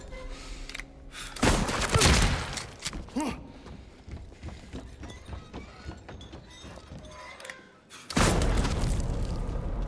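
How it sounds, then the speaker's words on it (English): Loud, booming shotgun blasts and combat noise from the Silent Hill 2 Remake video game fire in a dense burst, with a brief lull before another heavy blast near the end. No talking. "Shotgun."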